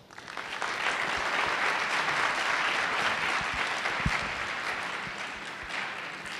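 Steady applause from an audience, swelling quickly and holding at an even level before gradually tapering off.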